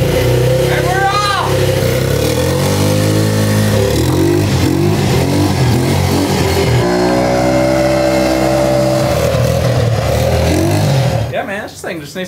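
A car engine revs and climbs through its range as the car pulls away, loud and close, with rising and falling harmonic sweeps before it cuts off abruptly near the end.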